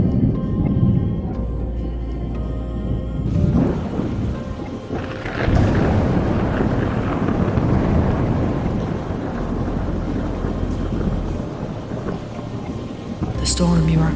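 A storm sound effect in an animated story: heavy thunder rumbles and cracks over a steady wash of rain, with a sharp crack near the end. The storm is loud and continuous.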